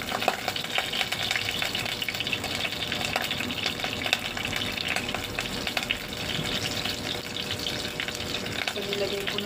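Garlic and onion sizzle and fry steadily in a hot pan throughout, with stirring noises and some watery hiss mixed in.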